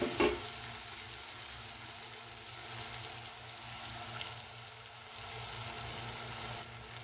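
Tomatoes and green chillies sautéing in a pan for a country-chicken biryani, a faint steady sizzle with low bubbling hiss throughout, distant and quiet with a small knock at the start.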